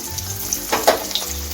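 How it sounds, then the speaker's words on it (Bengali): Cauliflower fries in hot oil for a koi fish curry, a close, continuous sizzle and crackle with a few brief stirring scrapes in the middle. "এখন আমি ফুলকপিটাও বেঁধে নিচ্ছি"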